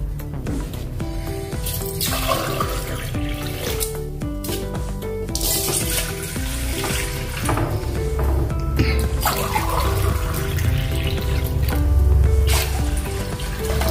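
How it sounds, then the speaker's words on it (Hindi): Water runs and pours steadily into a large pot, a continuous splashing gurgle that grows slightly fuller and louder as the vessel fills. "तो इसमें हम पानी डालेंगे"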